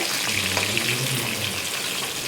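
Steady, dense crackling and sizzling from chicken frying in a hot pan, continuous and fairly loud throughout with no voices.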